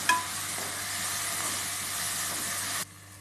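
Tomatoes and onions sautéing in a pan with a little salt give a quiet, even sizzle that starts with a light knock, runs steadily, then cuts off abruptly near the end.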